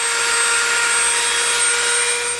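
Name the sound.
Dremel rotary tool rounding edge of EVA foam piece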